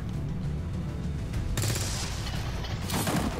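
Sustained rattling gunfire in XCOM 2, continuous and loud across the whole stretch, with a sharper, brighter burst partway through and no talking.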